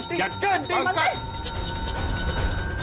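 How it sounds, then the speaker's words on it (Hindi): A bell rings in an indoor scene from a Hindi crime drama, a sustained clear ringing tone that starts under a short burst of talking and carries on alone as the voice stops. "घंटी।"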